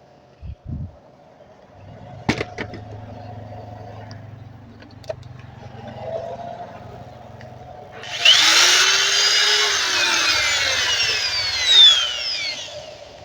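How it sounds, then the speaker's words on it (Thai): A small electric drill plugged into a repaired TBE 500W inverter whirs up after several clicks and a low hum, running steadily for about five seconds at close range with no talk. "เอาสว่านตัวเล็กๆมาเสียบ"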